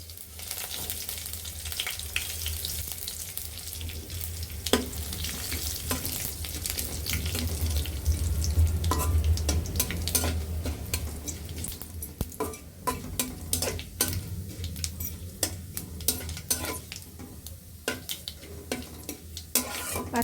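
Panch phoron spices fry in a pan with dried red chillies, a continuous close sizzle broken by frequent scraping and clicking stirs against the pan.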